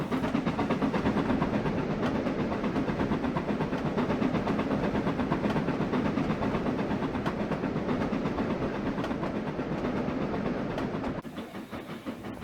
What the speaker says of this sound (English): Train number 255 is entering the Marble flag stop at 12:58 p.m.